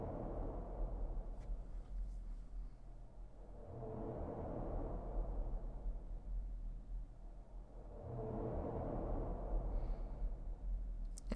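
The forest in the video game Extreme Meatpunks Forever 2 gives off a slow, deep breathing ambience, two long swelling inhale-like waves rising and falling over a low rumble, with no voices.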